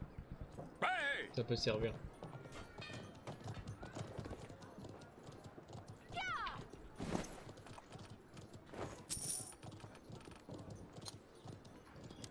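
A horse's hooves clip-clop in a video game, recurring hoof strikes alongside other game effects and a brief whinny-like sound, heard under someone speaking.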